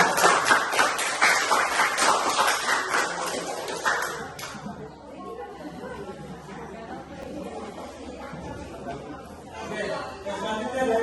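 Classroom applause for a student group presentation during a teacher's lesson, with loud dense clapping and chatter for about four seconds, then fading into quieter room murmur and voices.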